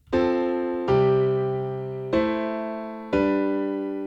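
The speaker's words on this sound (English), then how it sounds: "I've got this piano progression that sounds like this" A piano plays four sustained chords in slow succession, each struck clearly and left ringing to decay before the next, with no other sounds.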